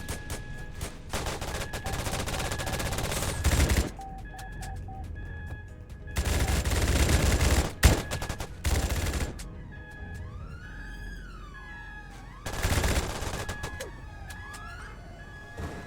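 Gunfire in the video game Oxford Response: several bursts of rapid shots crackle loudly in clusters, between them a wailing police siren that rises and falls.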